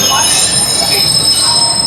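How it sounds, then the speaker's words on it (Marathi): A Mumbai local train pulls into Karjat station, its wheels giving a loud, sustained high metallic squeal over steady rumbling rail noise, close and continuous throughout. "तर आता ऑलमोस्ट ट्रेन कर्जतला पोचते आहे."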